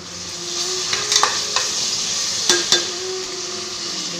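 Onions sautéing with fennel seeds in hot oil give a steady close sizzle, with a few sharp clinks and scrapes of a spoon against the pan scattered through it.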